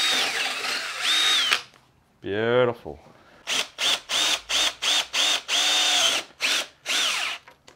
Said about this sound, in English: the drill drilled the hole, but it doesn't cut it out enough